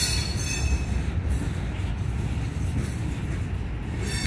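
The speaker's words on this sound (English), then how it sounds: "so that train wasn't that long then" Norfolk Southern freight train 310 rolling through a rail yard into Binghamton, a loud continuous rumble of railcars with squealing wheels, close by and steady, no talking.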